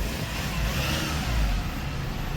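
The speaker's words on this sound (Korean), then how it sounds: "엔진 소리 양호하고요" A 2016 Hyundai Porter II one-ton truck engine rumbles steadily throughout, even and moderately loud, with no voices over it.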